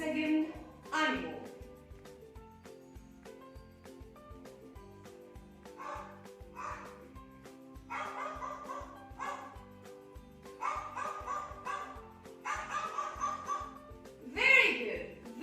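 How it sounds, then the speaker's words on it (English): A dog barks in a series of separate yips and bow-wows spread over several seconds, with a few whimpering notes between them and a louder burst near the end. "This is a dog."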